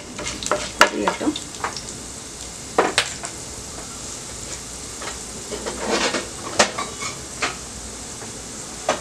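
Chana dal and urad dal sizzle in hot oil in a pan, with a soft continuous frying hiss and irregular sharp clinks and scrapes from a spoon stirring against the metal.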